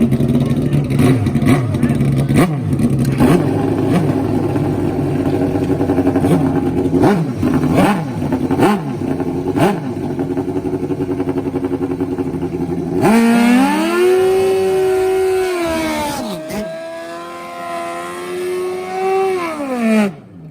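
Nitrous-fed 500-plus horsepower drag bikes roar at the first race of the Southeastern Drag Bike Association, a loud steady engine drone giving way to sharp rising and falling revs near the end.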